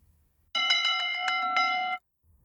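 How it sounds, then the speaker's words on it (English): A single bell-like chime rings out in a sustained, bright metallic tone for about one and a half seconds, clear and close against near silence. "Maybe I need to ring a bell 8 times."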